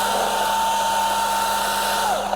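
A Milwaukee top-handle chainsaw cuts through a tree near a crane, its engine holding a loud, steady whine throughout before pitch drops slightly at the end as the cut nears completion.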